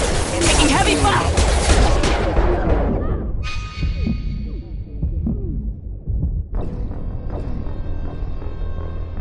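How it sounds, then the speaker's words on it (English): Heavy gunfire in a Mass Effect 2 battle, loud and dense for about two seconds before cutting away to quieter low rumbles and hum, with a sharp burst returning near the end. "Taking heavy fire!"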